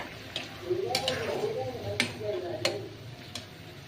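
A spoon stirs mola fish curry with potato and tomato in a pot, with sharp metal clinks against the rim about four times over a soft simmer and low talk.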